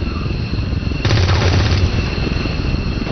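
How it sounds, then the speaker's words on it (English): Gunfire in the XCOM 2 video game, a burst of loud rapid shots that starts abruptly and lasts under a second, set against a constant game soundscape and rumbling background. "Wait a minute, I didn't tell him to shoot back."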